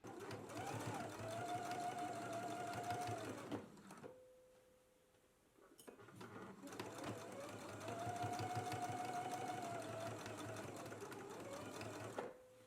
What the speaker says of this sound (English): We can go to the sewing machine now, and we're going to be stitching on the right side, right into the seam.